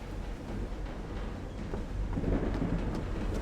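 Thunderstorm ambience in the video game Call of the Sea: a steady wash of rain with low rumbling thunder that swells slightly toward the end, no voices.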